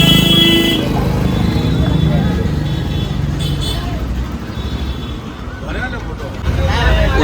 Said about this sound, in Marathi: सगळीकडे ट्रॅफिक होते आणि पब्लिक नुसती हॉर्न मारत असते.